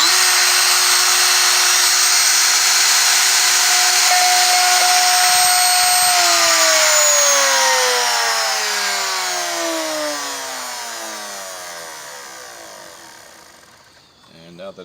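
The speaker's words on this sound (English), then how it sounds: "I'm going to turn the router on, I'm going to plunge it in, and I'm going to turn it off." A plunge router cuts a recess for a telephone jack in a module, whining loud and steady before switching off and winding down with a falling pitch over several seconds until it stops.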